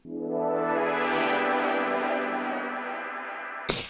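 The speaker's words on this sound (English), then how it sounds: "what makes this work is the so-called tape delay" A thick, smeared synth tone swells up and slowly fades as tape-style echoes wash over it, cut off by a sudden noisy burst at the end.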